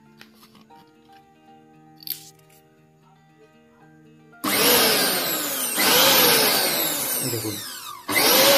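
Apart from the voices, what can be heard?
USHA Spin Pro 500 W mixer grinder running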